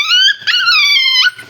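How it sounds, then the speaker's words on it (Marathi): A very small puppy, tick-covered and just back from the vet, gives close, loud, high whining whimpers in two drawn-out cries with a short break between, edged with a faint growl. "इतकं छोटं पिल्लू आहे"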